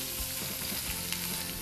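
Pork loin sears in a hot pan slicked with olive oil, giving a steady, dense sizzle and crackle at close range. It carries on without pause and no one speaks over it.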